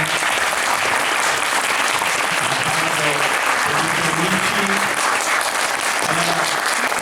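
Steady, full applause from a conference audience at an MSX developer event in Pisa, clapping for Sayaka continuously for several seconds with a faint murmur of voices beneath.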